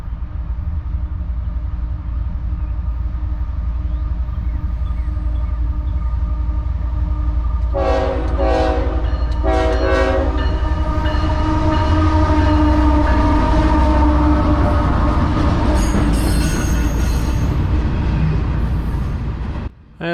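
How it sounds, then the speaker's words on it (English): A CSX Q142 intermodal freight train, running from Jacksonville, Florida toward northwest Ohio, rumbles past close by, its horn blasting twice in long chords over the steady roar and clatter of the cars. "This one is an intermodal train that goes from Duval Yard in Jacksonville, Florida, up to the Northwest Ohio Intermodal Terminal"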